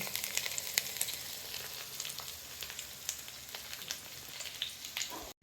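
Pathrode, colocasia leaf rolls, fry in a pan with a dense, close, steady sizzle full of sharp crackling pops, then a sudden cutoff at the end.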